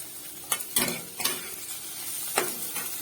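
Fried bitter gourd and pumpkin are stirred with chopped coriander in a pan. Several distinct scraping strokes sound over a soft background sizzle, close and fairly quiet, with no voices.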